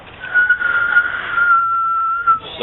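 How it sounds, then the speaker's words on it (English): A person whistles a single steady, sustained note close by for about two and a half seconds, thin and clear, with no talking over it. "Suck at whistling so hard."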